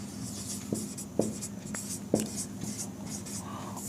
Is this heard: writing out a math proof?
yes